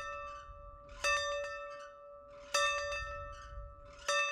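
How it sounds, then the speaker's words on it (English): Church steeple fire bell tolling three times at slow, even intervals, each strike ringing out clearly and then fading into a long, humming decay. "most often alerted by a fire bell in a church steeple."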